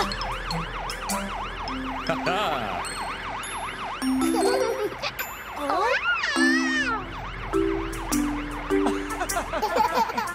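A fire engine siren in a children's cartoon wails up and down for a couple of seconds midway, rising over a bright musical backing that plays throughout.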